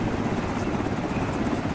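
A helicopter in the video game Arma 3 gives off a steady, loud rotor and engine roar that stays at an even level throughout, with no speech over it.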